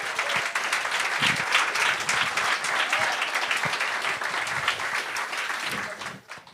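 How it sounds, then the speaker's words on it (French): Dense, loud audience applause fills a French-language TV game show studio, holding steady for several seconds before tapering off at the end. "applaudissez!"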